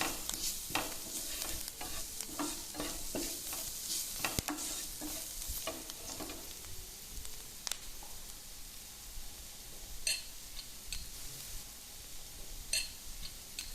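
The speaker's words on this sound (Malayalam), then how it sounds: "ഇനി ഇതിലേക്ക് ചെറുതായി അരിഞ്ഞു വെച്ചിരിക്കുന്ന ചിക്കൻ പീസസ് ആഡ് ചെയ്ത് കൊടുക്കാം" Chopped chicken pieces sizzle steadily in a hot pan for a chicken wrap, with repeated scraping stir strokes through the first half and sparser clicks and stirs later, close and continuous with no voices.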